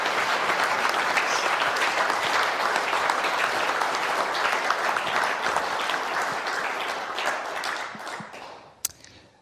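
Sustained audience applause greeting Professor Chris Button at his inaugural professorial lecture, a full steady roar of clapping from a large room that holds for several seconds, then thins and fades out with a few last claps.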